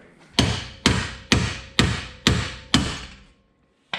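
Seven loud, evenly spaced hammer blows ring out one after another during an angle kit install on a BMW E36, each with a short metallic decay, then silence.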